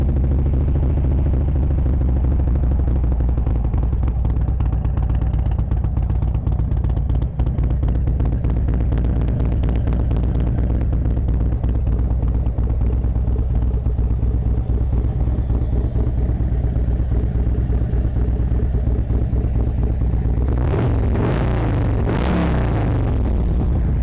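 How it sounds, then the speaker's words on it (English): A Harley-Davidson Street Glide FLHX with performance modifications idles with a steady, loud, low engine rumble throughout. A couple of sharper throttle blips come near the end, and no one speaks. "Bike runs real strong with those performance modifications."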